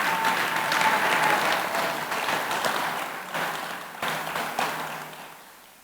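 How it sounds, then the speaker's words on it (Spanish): A church congregation bursts into loud applause that swells at first and then gradually tapers, with dense clapping filling the hall and a brief tone early on. "si le vas a dar un aplauso, dáselo fuerte mientras tomo agua"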